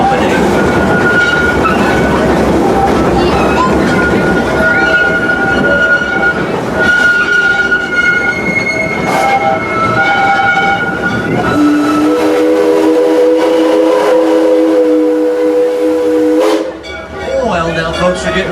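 The Six Flags Railroad train rumbles and clanks along steadily, then a loud steam whistle sounds near the end, with a hiss and crowd murmur behind it.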